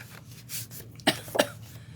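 Two short coughs come close together near the microphone, with a softer breathy sound just before them.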